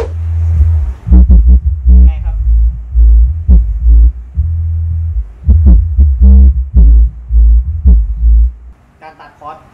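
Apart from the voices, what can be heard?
bass frequencies played through the myNPE GT 4500 power mixer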